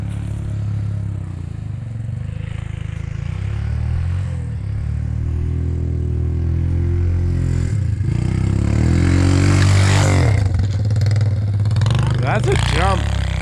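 Freshly rebuilt four-wheeler engines rev in cold snow, a loud, close growl that rises and falls with sharp throttle surges and clattering, while people talk and shout over it.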